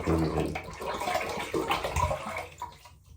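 A whole container of dye is poured into a tub of salt water, a loud, splashing pour that slowly thins out and gurgles to a stop near the end.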